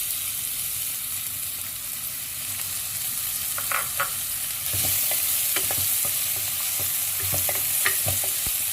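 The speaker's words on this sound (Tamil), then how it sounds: "இப்போ எண்ணெய் நல்லா சூடாயிடுச்சு" Steady sizzling of onions frying in hot oil for chicken curry, with occasional stirring scrapes and clinks against the pan.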